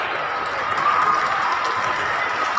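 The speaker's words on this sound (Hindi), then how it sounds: "तालियां होती रहे।" Dense, steady applause and cheering from a large audience at an outdoor government ceremony where cheques are handed out to beneficiaries, a continuous loud wash of clapping with no gaps.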